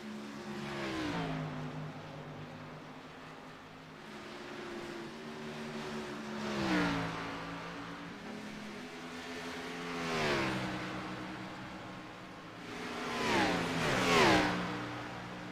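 Race cars in a late-night video game race at the Glen roar past in waves, engines revving up and shifting, several cars whooshing by close and loud in steady succession.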